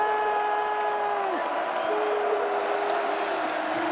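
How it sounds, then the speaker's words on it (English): A packed college football stadium crowd at Minnesota versus Rutgers roars and cheers in a steady, loud wash of voices that stays constant from start to finish, with no single voice standing out. "this crowd is all the way into it"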